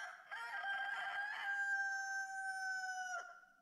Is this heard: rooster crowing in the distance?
yes